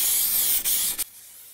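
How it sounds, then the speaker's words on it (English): A spray gun applies ColorSpec base coat to a car, a continuous close hiss with a brief break, then a second short burst before stopping and leaving near silence, with no speech. "So spray it on slowly and evenly."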